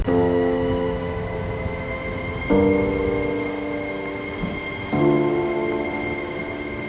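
Steady rumbling and clatter inside a moving train, with droning tones that shift pitch twice as the carriage runs on; no voices.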